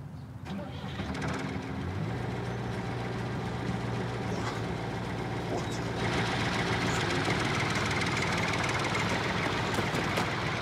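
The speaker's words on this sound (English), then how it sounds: "Switch the engine off" A digger's heavy engine runs steadily throughout, a deep rumbling drone with a low hum, growing slightly louder partway through; no talking.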